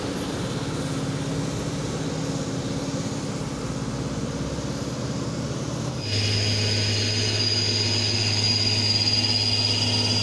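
A yellow Fuso trailer truck labors up a steep hill, its diesel engine droning steadily and then rising into a louder, higher rev partway through, continuous and fairly close.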